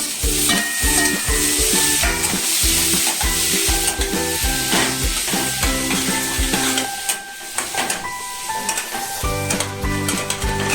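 Loud, steady sizzling of paneer frying in butter in a pan, with stirring and scraping noises throughout and no talking.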